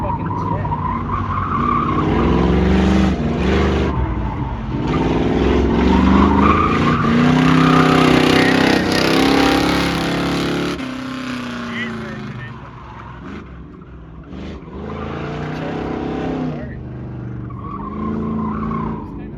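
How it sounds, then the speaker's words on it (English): Powerful muscle cars and dragsters roar and screech in the distance at a drag strip, tires squealing, while people talk nearby over the noise. "That was some big time dragsters there."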